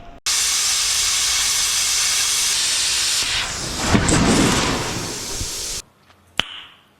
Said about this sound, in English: all we have to do is get the plasma cutter ripping, which is already ready to go, and get this thing cut down to size